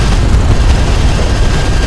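A strike craft blows up in the real-time strategy game Homeworld: Deserts of Kharak, a loud, steady rumbling blast with a dense low roar that holds for its whole length and no distinct separate hits.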